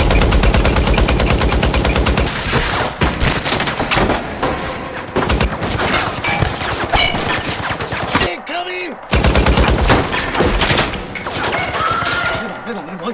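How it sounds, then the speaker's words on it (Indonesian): Sustained, loud machine-gun fire roars through a dramatic film scene, with dense rapid bursts, heavy booms and a brief pause before the shooting resumes. "Tiba-tiba ada yang membredel mereka dengan senjata Rambo"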